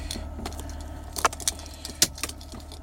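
A car radio wiring harness adapter snapping into the factory harness gives a couple of sharp, close plastic clicks over a low steady hum, with small rattling handling noises around them.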